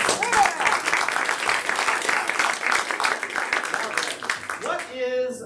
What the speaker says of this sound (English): let's give them a round of applause for the rest.